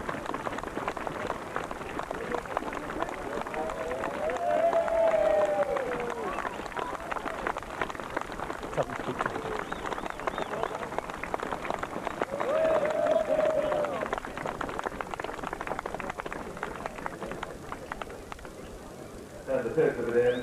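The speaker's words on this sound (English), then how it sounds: "the applause is starting to ring out" Crowd applause at a horse race swelling in the background beneath a race commentator's steady talk, a broad rumbling cheer and clapping that rises and falls.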